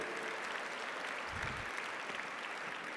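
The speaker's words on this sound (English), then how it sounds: "Let's give them another round of applause" Applause at a school awards ceremony, the Academy of Academic Excellence Eddys, a steady wash of clapping from a seated audience that holds fairly even for about three seconds.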